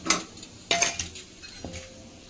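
Spoon scraping and clinking against a bowl while a gavar bhaji and raw mango chutney mixture is stirred, with a few sharp metallic taps and soft scrapes close by, no talking.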